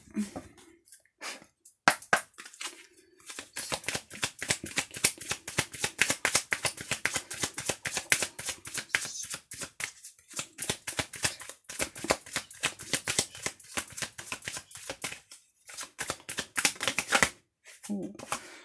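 Oracle cards being shuffled close up, a rapid rattling flutter of card riffles running almost continuously with a few short pauses.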